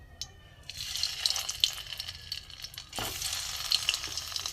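Potato-stuffed pointed gourds (potol) drop one by one into hot oil in a wok, each setting off a fresh burst of crackling sizzle that settles into steady frying, close and fairly loud.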